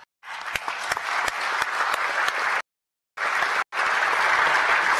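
A press-conference audience in Abu Dhabi bursts into loud, dense applause that runs steadily, breaks off in brief silent gaps, then resumes just as strongly.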